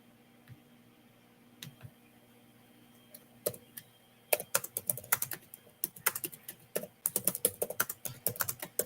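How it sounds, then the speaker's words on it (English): Typing on a computer keyboard: a few isolated key clicks at first, then a dense, rapid burst of close, crisp keystrokes. "I'm typing another message."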